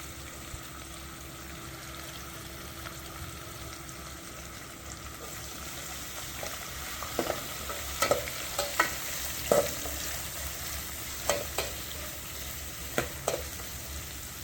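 Chopped onions fry quietly in oil in a pan for chicken salna, a soft steady sizzle with a run of spoon clinks and scrapes as they are stirred.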